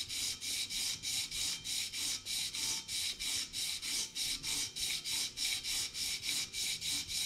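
A crankshaft journal is sanded by hand with 220 grit sandpaper in fast, even back-and-forth strokes, each a close, hissing rasp repeating about three times a second without pause.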